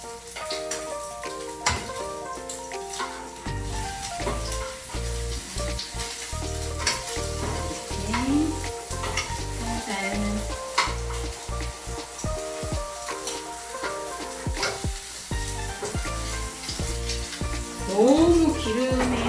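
Food frying in oil in a pan on low heat, turned with a wooden spatula, gives a steady sizzle with scattered crackles and scraping clicks, heard under background music and a faint voice.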